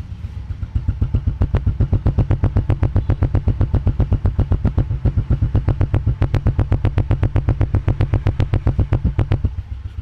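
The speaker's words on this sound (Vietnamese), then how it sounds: "Cho anh chị nghe tiếng bô nè." A 1999 Honda Wave 110 motorcycle engine, with original engine, idles steadily up close, its exhaust putting out a fast, even, throbbing pulse that continues without a break.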